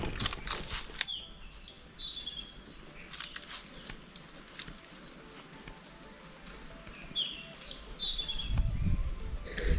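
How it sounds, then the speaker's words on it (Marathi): Birds sing in a valley on a summer trek: bright, fairly distant chirps and short whistled phrases repeat over a soft outdoor hush, with some rustling and a low rumble near the end. "इथे आहे ना पक्ष्यांचा आवाज खूप छान येतो"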